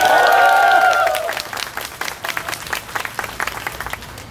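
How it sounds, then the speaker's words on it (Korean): Crowd at an outdoor political campaign speech breaks into loud shouting and applause, the cheering voices cutting off after a second while the clapping thins into scattered, uneven claps. "박수!"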